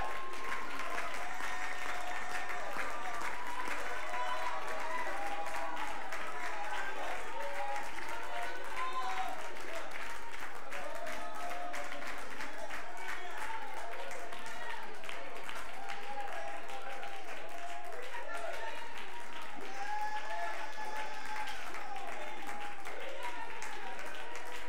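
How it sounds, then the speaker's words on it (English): A church congregation claps hands steadily and loudly throughout, a dense continuous patter of many hands with crowd noise and voices mixed in. "why don't you clap your hands to the Lord?"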